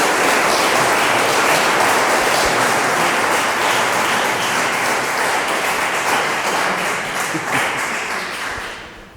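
Loud, close applause from an audience at a summer music event, thick continuous clapping that holds strong for several seconds before tapering slightly.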